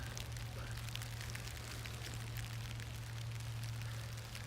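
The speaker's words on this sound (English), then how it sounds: "Oh, it's starting to rain, so we're gonna rain gear up." Rain beginning to fall on a hiking trail, a steady wash of light patter and drips under a constant low hum, with no talk.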